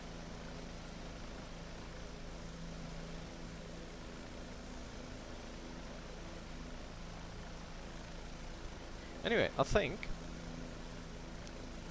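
Bell 407 helicopter in the X-Plane 11 flight simulator, a steady low rotor and engine drone running throughout at moderate level, with a brief burst of speech near the end.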